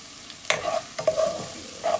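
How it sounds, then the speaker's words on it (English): Onions cooking in a pan for arroz con pollo, with a sharp scrape of a utensil at the start and a few more stirring scrapes over a low sizzle, close and fairly loud, no talking. "Try and keep as much onion as you can in the pan, so it still continues to cook there."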